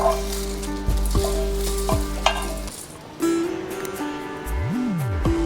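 Puffed rice (murmura) roasting in a pan, with a dry sizzle and rustling stirring over a strong electrical hum and tonal whine that cuts out partway through.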